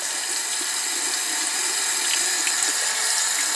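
Tap water runs in a steady, full hiss while a makeup brush is rinsed beneath the stream, an even, unbroken wash of sound lasting the whole moment.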